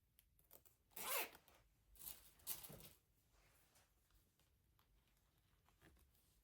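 Red zip ties ratcheting tight around a wire wreath frame, two or three quick close zipping bursts followed by faint handling rustles, quiet setting with no talk.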